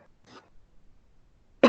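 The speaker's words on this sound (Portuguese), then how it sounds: "Perdão pela tosse." A single short cough bursts out loudly and close at the very end, after a quiet stretch with a faint earlier throat sound, during an outdoor lesson on urban flooding in Belo Horizonte.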